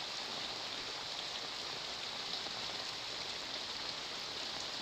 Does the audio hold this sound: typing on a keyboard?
no